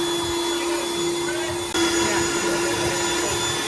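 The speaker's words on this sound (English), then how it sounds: "now we're adding all the drained tomatoes into the machine" A tomato straining machine processing drained tomatoes into pulp, a loud steady motor whine with a constant tone and a brief dip partway through, running alone without talk.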